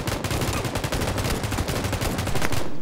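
Rapid bursts of gunfire from a PUBG firefight ring out loud and close, with dense overlapping automatic shots running the whole length and no talking over them.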